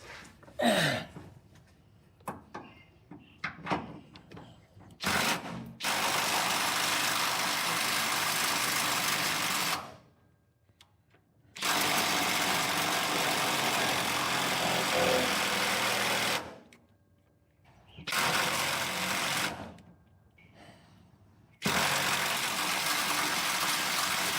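A cordless impact driver hammers at a bolt on a 2012 Chevrolet Colorado truck bed in several long, loud bursts of rapid rattling, separated by short silences, its battery running low.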